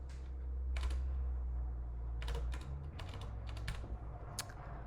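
Typing on a computer keyboard, short clusters of close key clicks spaced by pauses, heard over a steady low background hum.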